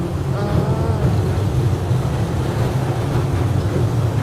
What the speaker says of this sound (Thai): พอมาถึงตรงนี้เรารถไฟเราจะชะลอความเร็ว